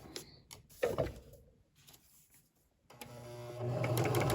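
A sewing machine stitches a pillow seam; quiet clicks and handling sounds come first, then the motor settles into a steady mechanical whir that grows and continues to the end, fairly close and unaccompanied by talk.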